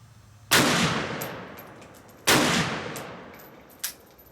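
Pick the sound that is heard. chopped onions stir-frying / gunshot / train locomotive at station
gunshot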